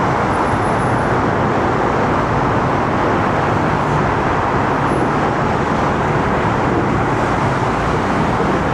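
Road traffic noise in the Philippines, a loud, constant roadway rumble of passing cars and engines filling the whole stretch with no talking.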